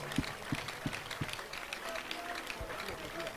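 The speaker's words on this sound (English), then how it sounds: "A big clap offering to Jesus." Congregation at a church service clapping in a few sharp, spaced claps over a steady crowd murmur, fairly faint and distant, with a voice speaking over it.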